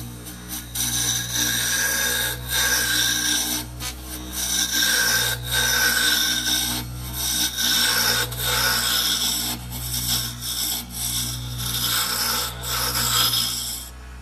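Camagon hardwood pin being turned down to size on a lathe, a loud continuous rasping scrape that swells and eases as the cutting tool works the wood, over a steady low motor hum.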